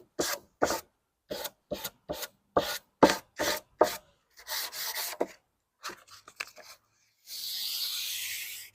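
Wood edges left by a roundover router bit being sanded with a cork block, a run of short rhythmic rasping strokes close by, then slower scrubbing passes and a longer steady rub.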